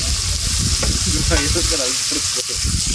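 Fish roasts on a hot tawa with a loud, dense sizzle and spatter, close at hand, while faint voices and some clatter come through in the middle of the frying.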